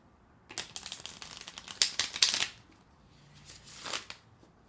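Tarot cards are shuffled up close in quick papery riffles and flutters, two bursts separated by a short pause, fairly quiet.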